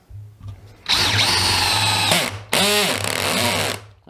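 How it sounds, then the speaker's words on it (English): A cordless power drill drives screws with its trigger feathered and the clutch torque set, giving a close whirring motor that ramps up in two long runs with a short stop between them and no talk. "That's how easy you can drive the screws in. With the torque settings, no problem at all."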